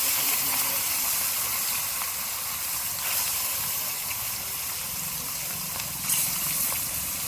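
A piece of katla fish dropped into very hot oil sizzles with a steady, broad hiss and spitting crackle, close and continuous, with a couple of brief louder spurts.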